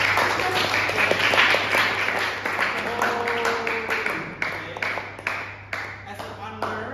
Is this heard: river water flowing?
no